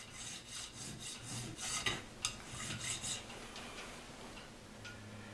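A file rasps across an ivory blank being shaped into a guitar fret nut, a series of short scraping strokes close by in a quiet room, with a couple of sharper ticks midway.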